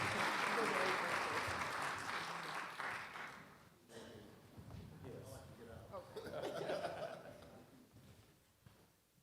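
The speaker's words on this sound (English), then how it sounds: "please give them a round of applause" Audience applause at an MLK Day celebration, loud and dense at first, then thinning into scattered clapping mixed with chuckles and murmuring crowd voices as it fades.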